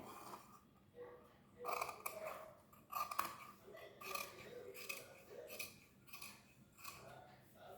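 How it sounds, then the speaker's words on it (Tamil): Scissors snip through blouse sleeve fabric, half an inch above a marked line, in a series of short, quiet crisp cuts with small pauses between, fairly close. "கட் பண்ணி காமிக்கிறேன்."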